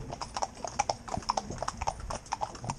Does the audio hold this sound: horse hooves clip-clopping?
yes